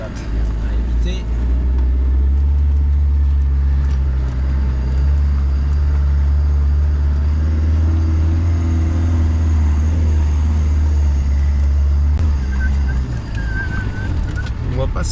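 A car engine drones low and steady while driving over Mongolian desert ground with the wheels slipping, a constant loud rumble with rattles, and people talk over it inside the vehicle.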